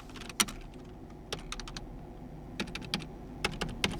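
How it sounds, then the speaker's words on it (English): A phone number is tapped in on a Samsung Galaxy A56 5G touchscreen: sparse, quick clicky taps in small bursts, close and quiet, with no voices. "I'm just typing random numbers just to show you."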